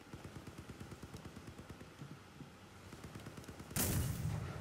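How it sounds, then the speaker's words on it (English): Rapid, regular gunfire from a 76mm gun in the vehicle combat game Crossout, a fast rhythmic series of close shots running for several seconds before a loud burst or impact near the end. "Oh, just shot my buddy there."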